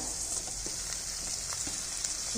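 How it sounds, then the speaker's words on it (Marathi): Onion, green chili and tomato frying in a pan over medium heat, a steady close hiss and crackle of sizzling oil with faint stirring taps, alone. "सर्वच मध्यम गॅसवरती छान फ्राय करून घ्यायचं"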